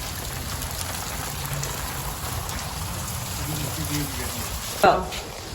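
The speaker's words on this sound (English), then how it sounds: "you can see all this water is pouring down here, which is really bad" Water pours down in a dark alleyway in Pakistan near hanging electrical wires, a steady rain-like splatter and trickle that fills the whole clip, with one brief louder knock near the end.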